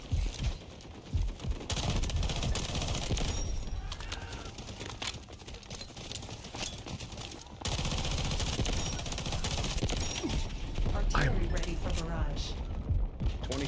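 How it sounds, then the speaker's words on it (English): Artillery barrage in a multiplayer video game: a sustained, loud wall of rumbling blasts and rapid gunfire that intensifies partway through, with voice chat talking over it. "Artillery cover coming."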